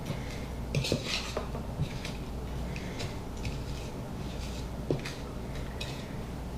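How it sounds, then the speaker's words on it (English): A utensil stirs vegan blueberry cranberry muffin batter in a bowl, giving soft scraping and occasional clinks against the bowl in an irregular rhythm, close and quiet, with no talking. "So now I'm just going to give that a stir around, make sure that it's blended up well."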